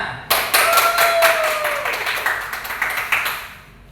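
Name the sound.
classroom clapping for Arya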